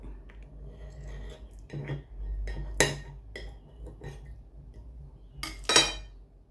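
A knife cuts and taps against a board in sharp, irregular strikes while cutting ingredients for a Taiwanese egg pancake, with a couple of louder clacks standing out in an otherwise quiet kitchen.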